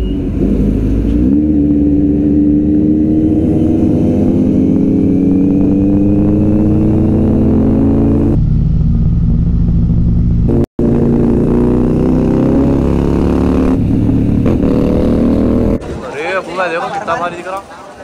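Superbikes such as a Kawasaki Z900, Honda CBR1000 and Suzuki Hayabusa ridden through Hyderabad on an Independence Day group ride, engines droning loud and close with rising and falling pitch as they accelerate and shift, cutting briefly, then wind noise at the end.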